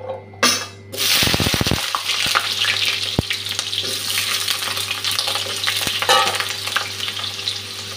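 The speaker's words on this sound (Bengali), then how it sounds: "এখন আলুটা ভেজে নিচ্ছি।" Potatoes frying in a pan, a loud sudden burst of sizzling as they go into hot oil, then a dense steady crackle with a few sharp clicks from the pan.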